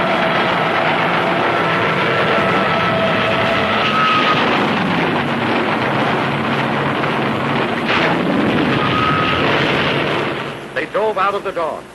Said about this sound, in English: Hundreds of land-based planes streaked low over the sea at our carriers.